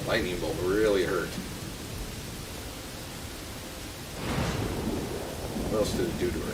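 A lightning bolt spell strikes in a video game, two rumbling thunder bursts with crackle at the start and again near the end, separated by a low noisy lull; a voice talks briefly over the first burst.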